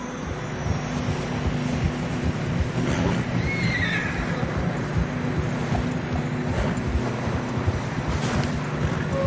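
Horse in the video game Red Dead Redemption 2 trudging through fresh snow in a snowstorm, a faint whinny rising briefly over steady wind and hoof noise.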